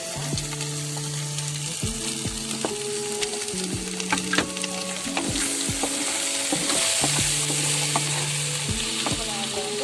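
Paneer frying and being stirred into egg fried rice in a pan: a continuous loud sizzle with frequent spatula scrapes and knocks, close up and without talk.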